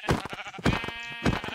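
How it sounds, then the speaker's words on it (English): Sheep bleating in the video game Minecraft, three separate bleats spaced evenly apart, loud and close with a steady tone between them, no talking. "I'll kill sheep."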